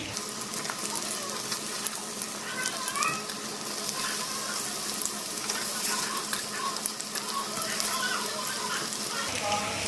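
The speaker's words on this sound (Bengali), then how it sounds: "আমি পটলগুলো তেলেতে দিয়ে পটলগুলোকে ভেজে নিচ্ছি" Pointed gourd sizzles and crackles steadily in hot oil, a close, continuous frying hiss with small pops throughout.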